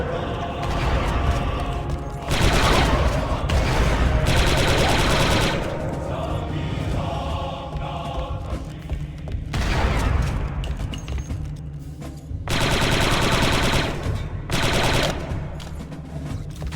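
Blaster and rifle fire in the Star Wars Republic Commando game, loud sustained bursts of rapid shots broken by short lulls and occasional booms, with squad voices speaking in between.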